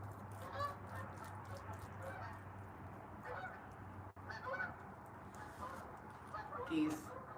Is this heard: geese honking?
yes